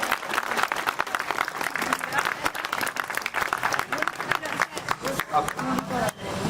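An audience claps loudly at a Louis Braille Day celebration at a blind school in Shahdara, a dense burst of many hands with a speaker's voice carrying over it.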